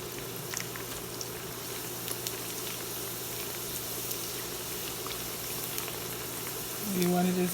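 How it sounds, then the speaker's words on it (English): Honey pork pieces bubble and sizzle in hot oil during a second fry, a steady quiet frothy hiss that continues throughout, ending with a brief low hum near the end. "So now we're going back in for the second fry."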